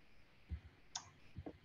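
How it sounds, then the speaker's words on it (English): A computer mouse clicking a few times, sharp quiet clicks in a nearly silent room. "just by clicking here"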